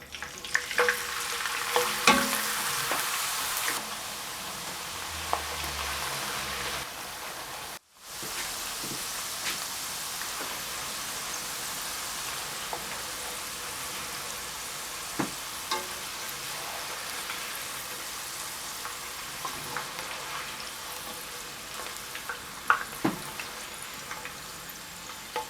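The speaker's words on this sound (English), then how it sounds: "we are going now to fry the chips up" Fresh-cut French fries fry in oil in a wok, giving a steady, close sizzle with scattered stirring clicks and a brief drop in sound near the start.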